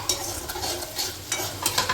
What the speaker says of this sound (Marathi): आता यात मी थोडंसं मीठ टाकतो, कारण ते लवकर परतलं जाईल